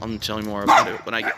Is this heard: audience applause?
no